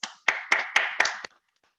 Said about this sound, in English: Everybody give a big round of applause for Sara Snyder